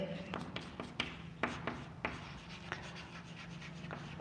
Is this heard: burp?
no